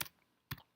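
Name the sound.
typing on a computer keyboard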